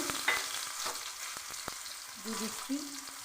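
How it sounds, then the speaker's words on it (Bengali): Dry red chillies and garlic frying in mustard oil in a kadai for tempering, a soft, even sizzle with a few faint spatula taps and clicks, quiet and close, no one talking. "শুকনো লঙ্কা, এসব ফোড়ন তৈরি করে নিচ্ছি"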